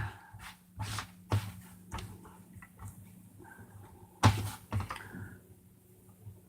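Scissors cutting pages off an altered book. There are several sharp, close snips and crunches with short pauses between them, then a louder cut near the end, all in a quiet room with no voices.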